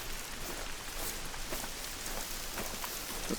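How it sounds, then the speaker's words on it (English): Rain falls in a hunting video game, a dense, even hiss of drops with faint scattered ticks, steady and fairly quiet throughout, with no talk. "that's the rain coming down"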